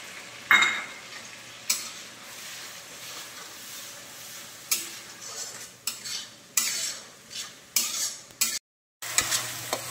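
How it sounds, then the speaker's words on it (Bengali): Ground onion frying in butter and white oil in a pan, a steady close sizzle broken by repeated scraping stirs and clinks of a utensil against the metal. "পেঁয়াজটা বাটার আর সাদা তেলের সঙ্গে ভাজা হয়ে গিয়েছে"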